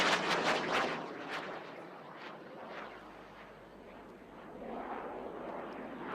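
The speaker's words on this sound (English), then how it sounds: "Emerging through the rear, here comes the Hindustan Jet Trainer 36." A Hindustan Jet Trainer 36 (HJT-36) intermediate jet trainer roars past at the Aero India 2025 air show in Yelahanka, a loud, steady broadband jet rush that swells, eases off slightly in the middle and builds again.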